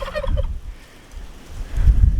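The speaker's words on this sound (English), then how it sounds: "These dang turkeys, they're gonna be all in the video." A turkey gobbles in a quick rattling burst, close by, then a low rumbling gobble follows after a brief lull.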